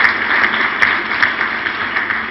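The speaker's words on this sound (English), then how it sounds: "give him a wonderful round of applause for this show of sportsmanship" A crowd at a leadership awards ceremony gives a round of applause for a show of sportsmanship, loud and steady sustained clapping with a faint voice beneath.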